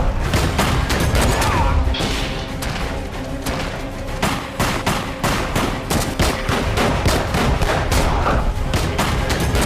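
Gunfire in a public place in Jaipur, a long string of sharp, loud cracks fired in rapid irregular bursts, crowding the whole stretch with dense echoing reports.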